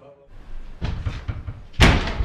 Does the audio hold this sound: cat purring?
no